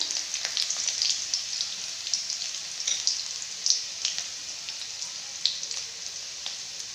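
Garlic and red chilli fry in hot oil in a kadhai, giving a steady crackling sizzle with scattered pops close by and no voices.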